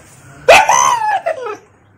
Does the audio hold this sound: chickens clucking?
no